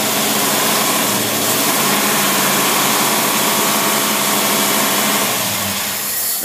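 A large-bore single-barrel carbureted engine roars loudly and steadily at high revs close by, then winds down toward the end as it is shut off.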